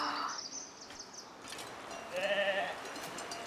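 Sheep bleating in the video game Foundation, a couple of wavering bleats close by against soft ambient background.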